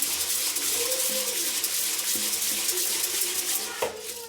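Rice is washed and rinsed in water, giving a steady splashing, sloshing wash of water with a few small knocks. A voice talks over the sound.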